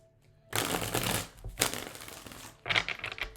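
Tarot cards shuffled for a Capricorn reading, two riffling bursts with rapid papery flutters and a short pause between them, close and moderately loud.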